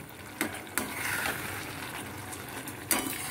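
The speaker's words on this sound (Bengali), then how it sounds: "আজিনামোটোটা দিয়ে ওটা একটু নাড়িয়ে নিতে হবে।" Food stirred in a hot pan after a pinch of Ajinomoto is added, giving a low steady sizzle broken by a few sharp scraping clacks of the spatula against the pan.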